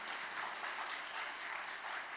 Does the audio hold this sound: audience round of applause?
yes